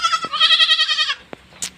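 Goats bleat loudly and close by as they are let out of their pen on a farm: one long, wavering cry followed by a few sharp clicks and knocks.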